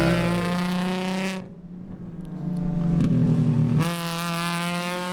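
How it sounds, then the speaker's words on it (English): A red Mazda Miata race car's engine screams past at high revs at Sebring, drops briefly as it shifts and passes, then another high-pitched engine roars in close behind. "there's the number 68 of Phil Adams in his red Mazda Miata"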